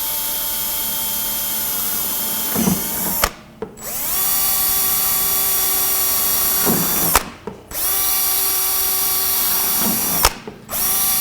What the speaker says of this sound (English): we'll drill some more holes and see what we get for results